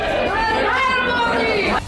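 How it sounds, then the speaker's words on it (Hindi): A crowd of devotees at Vindhyachal temple chants Modi slogans in unison, a close, loud, sustained mass of voices rising together. "विंध्याचल मंदिर में दर्शन करने आई श्रद्धालुओं की भीड़ मोदी मोदी के नारे लगाने लगी"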